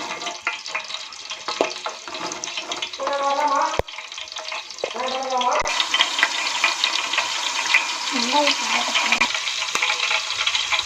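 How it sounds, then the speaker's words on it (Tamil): Whole cinnamon, cardamom, star anise and fennel seeds crackle and sizzle in hot oil in an outdoor village kitchen, a steady dense frying hiss with scattered pops and brief stirring clatter, close and fairly loud. "பட்டை நல்லா பொரிஞ்சு போச்சு."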